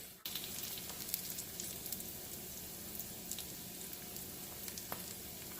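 Korean rice cakes fry in a pan with a quiet, continuous sizzle and scattered small pops and crackles, close and steady throughout.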